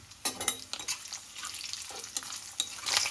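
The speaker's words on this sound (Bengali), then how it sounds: "কিশমিশটা ভালো করে ভেজে নিচ্ছি।" Raisins frying in a pan for shahi pulao, a crackling sizzle with stirring scrapes and small pops, close and steady with several louder bursts.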